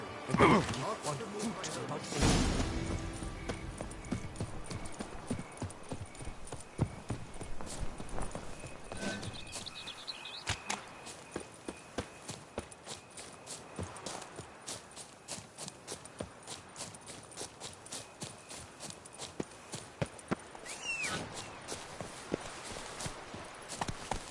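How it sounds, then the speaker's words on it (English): Horse galloping in the video game The Witcher 3, a rapid rhythmic drumming of hooves that runs throughout, with brief voices and other game sounds over it. "Run, Roach"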